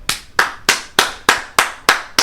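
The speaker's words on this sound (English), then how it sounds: "I felt like I had to give a round of applause for that." Steady round of hand clapping from one person, eight sharp claps in an even rhythm, close and loud, with no talk over it.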